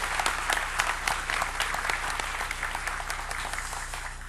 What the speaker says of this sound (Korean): 수고한 우리 오케스트라 대원들을 위해서 박수로 한번 격려했으면 좋겠습니다